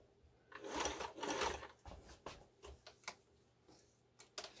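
A Singer 431G sewing machine stitches fabric in quiet bursts of mechanical whirring, followed by irregular light ticks and clicks, with no voices.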